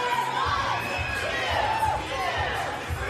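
Spectators at the Burn Boot Camp Athlete Games finals cheer and shout continuously, a dense crowd roar with whoops and yells rising and falling, loud and filling the arena.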